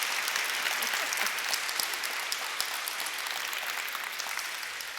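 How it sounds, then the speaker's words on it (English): Audience applause after a keynote lecture at an Outlander conference, a steady, full wash of clapping from a large crowd, sustained throughout without talk. "Give her another round of applause."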